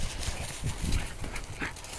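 Dogs pant and whimper close by over a constant, noisy outdoor background, with soft rustling and occasional faint thumps like paws moving about.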